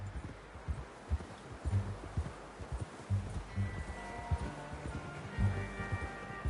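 Horse hooves clip-clop at a steady walking rhythm in the Red Dead 2 video game, fairly quiet and close, with soft rustling and faint tonal music rising toward the end.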